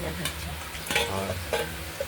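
Tilapia pieces seasoned with turmeric and salt fry in oil in a covered pan, giving a continuous close sizzle broken by a few sharp crackles and clinks, with no talk.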